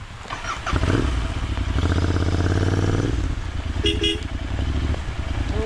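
Motorbike engine on a rough rural road near a waterfall in Karnataka, a loud close drone that surges and bumps along, punctuated by a couple of short horn toots near the end.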